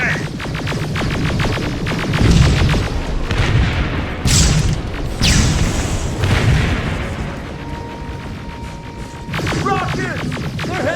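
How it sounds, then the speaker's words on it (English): Rockets streak in and explode in Terminator Resistance, a run of heavy booming blasts with throbbing rumbles between them, loud and close, rising and falling over several seconds. "Rockets! They're heading this way!"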